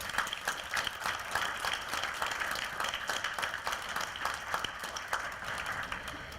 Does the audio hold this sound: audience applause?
yes